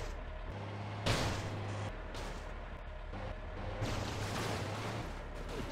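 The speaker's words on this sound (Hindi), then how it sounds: "दिवाली गई फिर भी ये पटाखे कौन फोड़ रहा है पता नहीं" Firecrackers burst in the game GTA with repeated loud, sharp explosive cracks over a steady low vehicle rumble, several bursts spaced a second or two apart.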